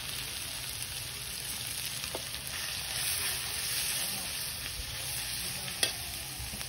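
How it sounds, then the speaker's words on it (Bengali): Onion, ginger and garlic sizzle steadily in hot oil, a continuous bright crackling hiss close by with a couple of small spatula taps. "তেলের মধ্যে পেঁয়াজ আদা রসুনটা দিয়ে দেবো"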